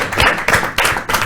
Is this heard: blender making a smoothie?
no